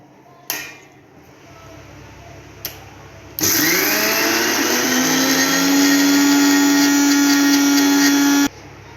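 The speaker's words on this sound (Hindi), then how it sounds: "अब मैं सबसे पहले इमरती के लिए दाल मिक्सी के अंदर पीस लेता हूँ।" A couple of soft knocks, then a loud mixer grinder grinding soaked lentils with water for imarti batter starts up and whirs steadily at high speed for several seconds before cutting off abruptly.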